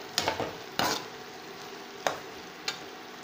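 Capsicum curry ingredients frying in a pan, a faint low sizzle underneath a few sharp stirring bursts and spoon scrapes spaced irregularly over a few seconds.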